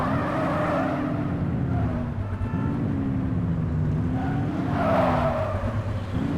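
A small sports car drives in the video game The Precinct, its engine a steady, close, continuous drone that rises and falls in pitch as it speeds along, with no talking.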